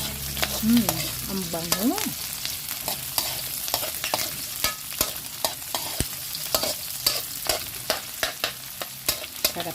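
Tilapia for sweet and sour fish being stirred as it fries in a pan, with steady sizzling and repeated sharp scrapes and clacks of the utensil; a voice hums and speaks briefly near the start.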